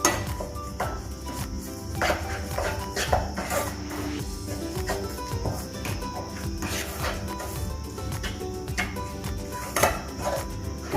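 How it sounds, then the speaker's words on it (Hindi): Grated coconut stirred continuously in a pan for coconut laddu, a steady close scrape of spoon against metal with small clinks and taps, a busy low rustle running throughout. "कंटिन्यूसली इसे चलाते रहना है, नहीं तो खोपरा चिपक जाएगा"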